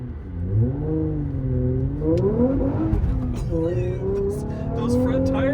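Acura TSX, a 2004 6-speed with a swapped J37 V6, accelerating hard from inside the cabin: the engine climbs steadily through the revs with rising pitch, loud and close, with a faint tire squeal and people talking over it.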